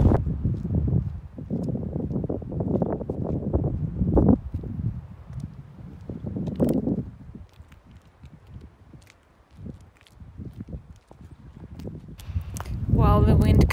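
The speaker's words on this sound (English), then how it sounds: "While the wind calmed down" Wind buffets the microphone outdoors at Mammoth Lakes, a loud, gusty rumble that rises and falls and swells again near the end, with speech-like sounds partly mixed in.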